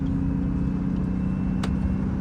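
A Scania truck coasts downhill with its retarder engaged, giving a steady, loud low rumble and drone that holds constant from start to finish.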